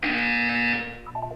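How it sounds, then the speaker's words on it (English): Buzzer in the video game Portal 2, a loud steady electronic alarm tone sounding alone for just under a second before cutting off into a faint fading tail. "When you hear the buzzer, look up at the ceiling."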